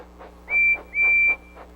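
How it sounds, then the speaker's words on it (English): A steam engine's whistle from Thomas & Friends sounds twice, two clear sustained toots separated by a short gap, fairly loud and alone. "Percy blows his whistle to help Thomas find him."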